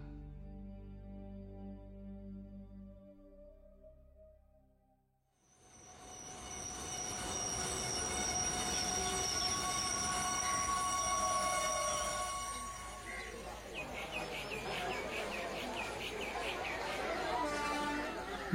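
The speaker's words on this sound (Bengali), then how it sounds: "বরাভূম স্টেশনে ট্রেন এসে পৌঁছল বিকেল 5টায়" A train arrives at a small station. It starts with a deep rumble, then loud rolling wheels and a long high squeal of brakes grow close and hold steady, with a busy station atmosphere.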